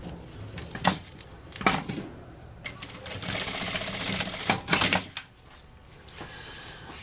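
A sewing machine stitches across the end of a fabric bag strap in quick bursts of running, with short pauses and handling clatter between them, close by.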